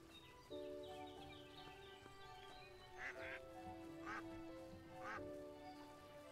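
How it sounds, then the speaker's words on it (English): A duck in the Everdream Valley farming game quacks three times in short bursts over steady, tonal game music. "Let me go see if I can find myself a duck."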